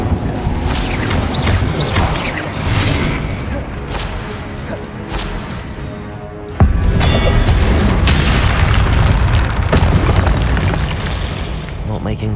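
Incendio fire spells explode in the Hogwarts Legacy video game, each a loud booming blast with a whoosh, landing repeatedly against continuous game music and effects, and one big hit arrives midway.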